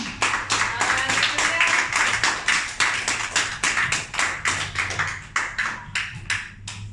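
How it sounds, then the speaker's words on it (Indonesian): A congregation at an Erev Yom Teruah Rosh Hashanah worship service claps in a steady, rhythmic beat, roughly three sharp claps per second, loud and close, continuing evenly for several seconds. "Mari kita berikan tepuk tangan."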